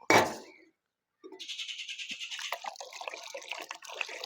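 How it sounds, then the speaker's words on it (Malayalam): Water rushes into a bottle after hand sanitizer inside it is set alight: a short sharp burst, a brief silence, then close, hissing gurgles and drips that keep going to the end. "വളരെ സിമ്പിളായിട്ട് കുപ്പിക്കുള്ളിലേക്ക് വെള്ളം കയറും"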